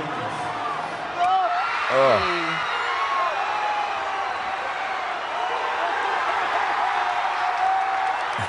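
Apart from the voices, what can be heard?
stadium crowd cheering at Miami vs Appalachian State football game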